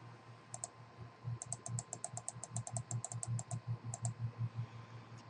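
A computer mouse clicks about a dozen times in a quick, even run, crisp and close, with a short pause partway through and no talking.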